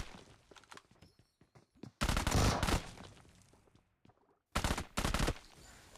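Bursts of automatic gunfire in the battle royale game BGMI, two loud sustained volleys separated by a pause, with quieter clicks and shuffling sounds in between.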